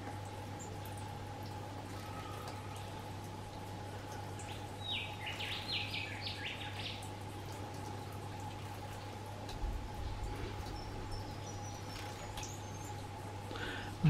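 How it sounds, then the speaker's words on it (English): Brief bursts of light splashing water from a small firetail bird bathing in a pond, faint and intermittent over a steady low hum and outdoor ambience. "We've got a little fire tail having bird bath down here in the pond."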